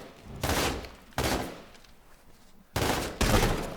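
Loud gunshots from a video game ring out in four sharp blasts, spaced irregularly, each leaving a short decaying tail.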